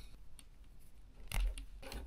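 Scissors snip through a thin lav mic cable up close, with one sharp crunchy cut followed by a softer second snip against quiet room noise.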